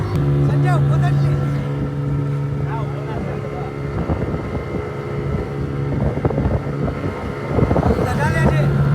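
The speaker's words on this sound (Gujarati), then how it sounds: "તો હવે બોટ ઉપડી રહી હે" A boat setting off on water, its engine droning steadily with wind buffeting the microphone, while several people talk throughout.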